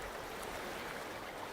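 Ocean tide waves wash in a soft, continuous hiss, faint and even with no distinct breakers, steady for the short stretch.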